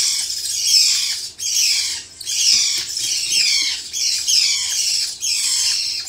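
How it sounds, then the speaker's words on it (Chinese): Cockatiel kept at home, one of a pair of pet parrots, giving repeated harsh, loud squawks close by in a steady series, one after another, with no talk. "这是个玄凤鹦鹉"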